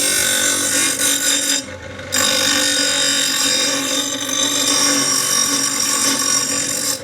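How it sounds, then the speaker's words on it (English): A grinder whines loudly and steadily during custom motorcycle fabrication, close to the listener, with one brief dip where it eases off before resuming at full pitch. "is currently on the grinder"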